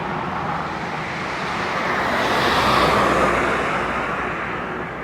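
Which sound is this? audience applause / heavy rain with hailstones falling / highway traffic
highway traffic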